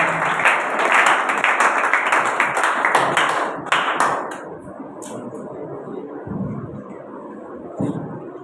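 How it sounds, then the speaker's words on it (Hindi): A church congregation applauds to welcome a pastor at a sermon gathering, dense clapping for a few seconds that thins and fades into quieter room noise with a few scattered claps. "आप सबकी भरपूर तालियों में पास्टर हारून को दावत देता हूँ"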